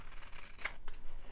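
Tim Holtz scissors, fresh with glue on the blades, make a short crisp snip through paper, faint and close, with a second softer cut just after.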